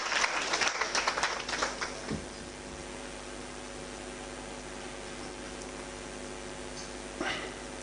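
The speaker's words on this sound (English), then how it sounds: "Let's clap for him." A burst of clapping from a group at moderate distance, fading after about two seconds, with a brief faint flurry again near the end.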